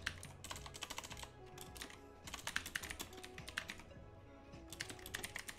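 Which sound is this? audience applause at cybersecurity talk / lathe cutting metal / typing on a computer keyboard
typing on a computer keyboard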